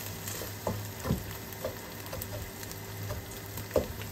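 Minced pork, with pork cubes added, sizzles gently in a pan while occasional scrapes and clinks of a stirring utensil sound up close; the sizzle is soft and steady.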